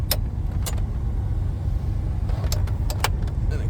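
An LS-swapped OBS Ford truck engine idles in a steady, loud rumble close by, with a few sharp metallic clicks and clinks on top.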